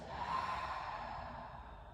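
A deep breath is let out through an open mouth in a breathing exercise, one soft, airy exhale that fades over a couple of seconds, close and quiet, with no speech.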